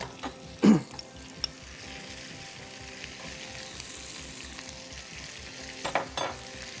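Garlic frying in oil in a pan, a low steady sizzle running throughout, with a couple of sharper clanks from a utensil near the start and end.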